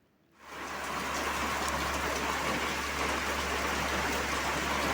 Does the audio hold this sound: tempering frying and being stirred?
no